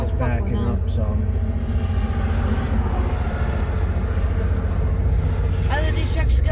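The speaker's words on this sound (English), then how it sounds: "Yeah, there's a bunch of big trucks coming this way" Big trucks drive past on a road in Maine, making a loud, steady engine rumble that fills the whole stretch without a break.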